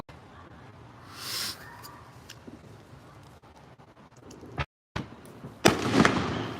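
Fireworks exploding around a neighborhood: scattered distant pops and crackles, a brief silence, then a louder close burst with crackling near the end.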